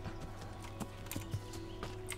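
A horse trotting in the video game Kingdom Come: Deliverance, with soft, steady hoof clip-clops over a low ambient hum, quiet and evenly paced.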